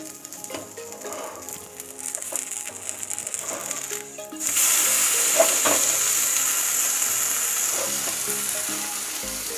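A finger millet (nachni) dhirde fries in a pan, with a soft sizzle and a few scraping sounds, then a much louder, steady sizzle once it is flipped.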